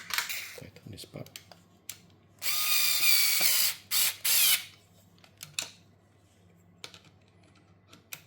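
A hex key or small tool works a bracket on a Brompton T-Line bike, giving clicks, then a run of rapid ratcheting bursts midway, followed by scattered taps and clicks, close up.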